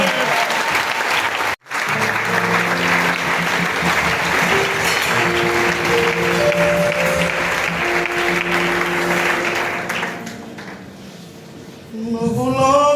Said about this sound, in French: Et bénis le Seigneur avec tes applaudissements.